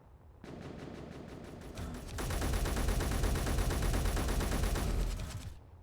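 Rapid automatic gunfire from NPCs in the Space Engineers video game, a dense sustained burst of shots that grows louder and heavier midway, then cuts off near the end.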